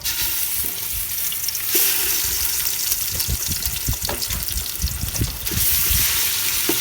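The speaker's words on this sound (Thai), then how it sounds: "เราจะผัดเครื่องแกง ใส่ไม่เยอะนะ" Green curry paste stir-fries in a little oil over low heat, giving a steady close sizzle broken by repeated scraping and stirring strokes in the pan.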